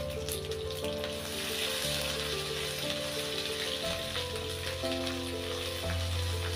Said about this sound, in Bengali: মশলাগুলো একটু নেড়ে চেড়ে ভেজে নিয়ে এর ভিতর আমি পেঁয়াজ বাটা দিয়ে দিলাম।